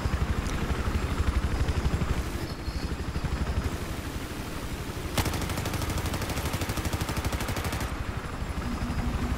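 A light machine gun fires in Battlefield 4 in long, rapid, unbroken bursts, loud and close, with a brief gap partway through before the firing resumes.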